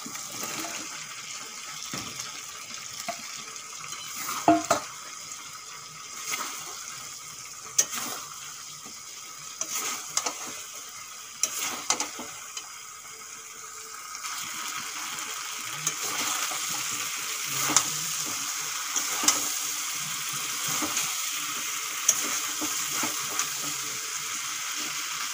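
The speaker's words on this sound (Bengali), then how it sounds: "এখন ভেজে রাখা আলু আর ইঁচড় দিয়ে দেবো।" Fried potatoes and young jackfruit go into a thick spice paste in a pan, giving a steady sizzle with repeated scraping and clattering stirring strokes, close up and without talk.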